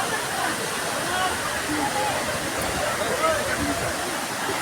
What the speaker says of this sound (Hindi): और एक तरफ है झरना नजारा है झरना